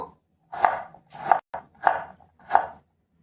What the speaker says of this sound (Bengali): এই যে দেখো এখানে আমি এক টুকরো আদা নিয়েছি আর কয়েক কোয়া রসুন তো এগুলো এবার একটু কেটে নেব